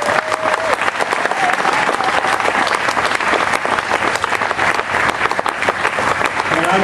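An audience gives a big, sustained ovation for Enzo Iannacci, thick continuous clapping at full volume with no pauses.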